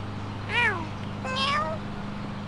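Two distinct synthetic cat meows from the video game Petz Catz 2, each a rising-then-falling tone, clear and close over a low steady game hum, with a short gap between them.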